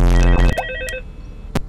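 Telephone ringing in the Five Nights at Freddy's Ultimate Custom Night video game: a loud electronic ring tone, with a few sharp clicks and faint game noise following.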